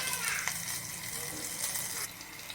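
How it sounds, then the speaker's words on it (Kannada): Water being poured into dhokla batter in a bowl, a continuous close gushing splash lasting a couple of seconds before easing off slightly. "ಇವಾಗ ನಾನು ಸ್ವಲ್ಪ ನೀರು ಹಾಕೋತಾ ಇದ್ದೀನಿ"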